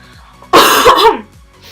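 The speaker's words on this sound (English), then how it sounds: "I'm trying to stay away from the computer to cough" A woman with a cold gives a single harsh, throaty cough close to the microphone, with quiet room tone before and after.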